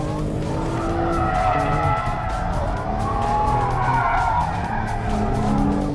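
A 2017 Kia Stinger GT in rear-drive form skids on a racetrack, its tyres squealing in a sustained, wavering screech over a loud, continuous engine roar.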